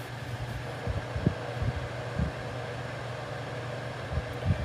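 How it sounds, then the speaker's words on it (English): A portable air conditioner compressor runs off an XWJNE 2000W pure sine wave inverter, giving a low, steady mechanical hum with a faint fan-like whoosh and a few soft thumps. "the compressor will start and you will be able to hear the compressor"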